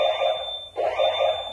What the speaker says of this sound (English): We're gonna set off the fire alarm in here.